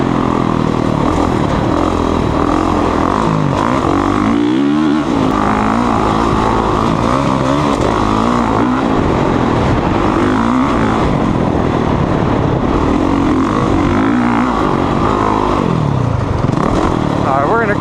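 Honda CRF450R motocross dirt bike being ridden: a continuous close, loud four-stroke engine roar with constant throttle swells and drops over the full stretch, heavy wind and rumble mixed in.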